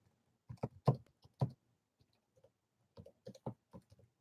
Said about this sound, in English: am typing on the wrong keyboard again.